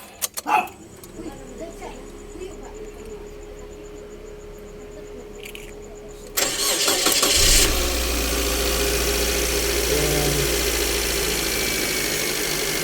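A Suzuki Landy engine, just fitted with new spark plugs, cranks and catches after some quiet clicks and handling noises, then settles into a steady, close idle hum that continues to the end.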